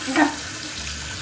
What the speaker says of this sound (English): So Kerri's just doing it under the running water.